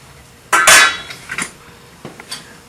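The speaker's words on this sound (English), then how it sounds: "we're going to dump this in our pot here" Smoked pork butt and cabbage ingredients dumped into a simmering pot. A loud metallic clank and splash comes first, followed by a few softer knocks and scrapes of utensil against metal.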